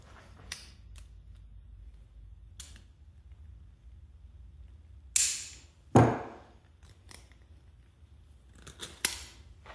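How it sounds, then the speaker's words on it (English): Snap ring prised off a bearing during R32 GTR gearbox assembly, a few sharp metallic clicks and snaps spaced apart, with two louder pops in the middle against a quiet workshop background. "We just need to pop this snap ring off."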